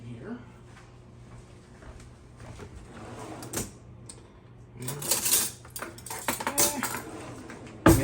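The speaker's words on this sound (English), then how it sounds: "And we will grab a spoon here." A spoon clinks against a mixing bowl while making chocolate pie, with a few scattered taps early on and then a cluster of sharp, close metallic clinks and scrapes in the second half.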